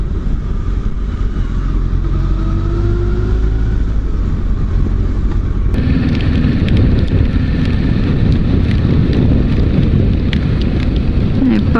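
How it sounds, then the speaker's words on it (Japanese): Heavy rain pours down on a motorcycle ride on a Kawasaki Ninja 650, a dense steady hiss mixed with wind noise and engine rumble, growing louder and harsher partway through. "雨いっぱい降ってきた。"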